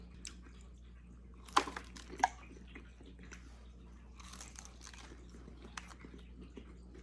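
Light, crisp bites into fried tempura, two sharp crunches close to the mic followed by soft chewing over a quiet room hum.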